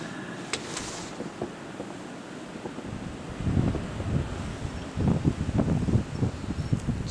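Blizzard wind gusts at a front door, a rough, blustery roar that swells strongly in two bursts after a quieter opening, with a few faint clicks near the start.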